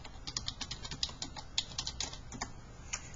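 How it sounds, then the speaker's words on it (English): Fingers tapping out a web address on a computer keyboard, a quick irregular patter of close, crisp keystrokes with no talking. "I am going to open a new browser window and I am going to type"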